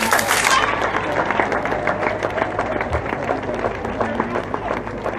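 Audience applause at a ceremony honoring a Guadeloupe football club, a dense steady wash of clapping that stays loud throughout, with crowd murmur mixed in.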